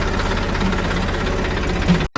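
A 41 tractor idles nearby on a farm during wheat sowing, a steady, dense engine rumble with a knocking pulse that holds at a constant level before a brief cut near the end.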